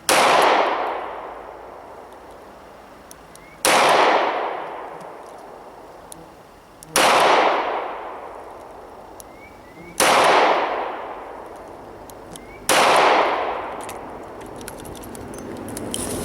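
Five loud, evenly spaced shots from a Ruger LCR .38 revolver fired at a target 5 yards away, each sharp crack followed by a long ringing decay, about three seconds apart.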